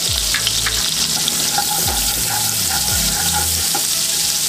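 Cumin seeds hit hot oil and butter in a pan with a loud, continuous sizzle and crackle. Low clunks and bumps sound from the pan being handled underneath.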